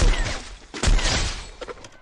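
Video game gunfire crackles in quick bursts, several loud close shots clustered at the start and again near the middle, followed by fainter scattered pops.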